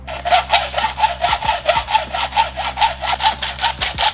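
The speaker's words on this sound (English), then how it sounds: "So oil the pipe and then cut your spacer." A metal pipe being cut with a pipe cutter to make a pit bike axle spacer, producing a loud close rhythmic rasping with a repeated back-and-forth stroke, about two to three strokes per second, heard alone.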